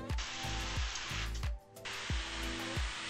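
A hissing can of spray adhesive in repeated short bursts, each with a low thump, steady and close with a brief pause midway.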